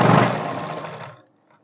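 A sewing machine stitching saree petticoat fabric runs in one brief, close, whirring burst that slows and stops after about a second.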